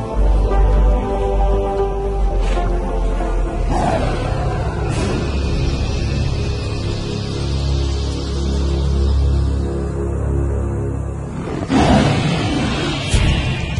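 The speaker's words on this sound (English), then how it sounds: "This roar from afar is a sound that spells trouble." A lion roars far off in the wild, deep, rumbling calls rising and falling over a constant low background of wind and ambience, with no talking.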